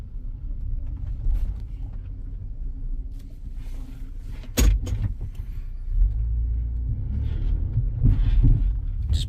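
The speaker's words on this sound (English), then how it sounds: "Just boom, boom, clatter it like the mounts are just done." A 2005 Lexus RX330 with worn engine mounts clunks and thumps with low, uneven booms and a sharp clatter partway through, close and heavy against a rumbling idle.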